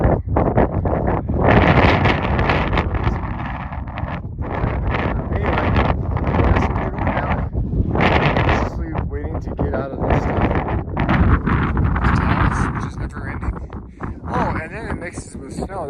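Gusty wind buffets a microphone on a Colorado 14er summit, roaring in uneven bursts throughout, with people talking intermittently beneath it.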